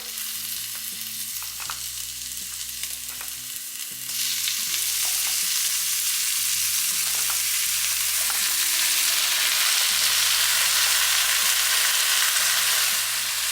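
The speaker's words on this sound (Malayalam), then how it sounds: "ഇനി നമ്മൾ ഇതിലേക്ക് നമ്മൾ മാരിനേറ്റ് ചെയ്ത് വെച്ച ചിക്കൻ ഇട്ട് കൊടുക്കാം." Marinated chicken frying and stirred in a pan for a chicken ghee roast, a loud steady sizzle that swells after a few seconds, with spoon scrapes and clatter throughout and no talk.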